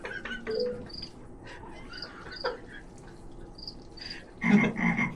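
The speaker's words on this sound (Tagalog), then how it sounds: "Kuliglig." Night insects and frogs call outdoors, scattered high chirps and trills sounding at moderate distance, with a louder burst of croaking near the end; no talking.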